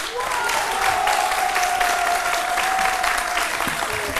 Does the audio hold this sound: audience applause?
yes